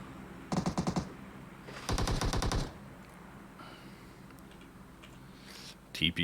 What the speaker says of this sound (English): They're just suppressing fire, trying to keep the fire back from Tiaka.